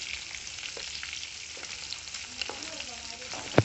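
Green and dried red chillies fry with urad dal in a pan, giving a steady, moderate sizzle with occasional light scraping of stirring. A louder clink lands at the very end.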